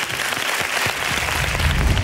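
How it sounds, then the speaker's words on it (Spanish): A studio audience at a televised copla singing gala applauds steadily, a dense, close wash of clapping that holds for about two seconds with no voices over it. "este aplauso para todas ellas"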